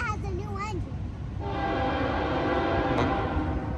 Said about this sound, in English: I guess it might not be a no horn zone because it's blowing pretty loud right now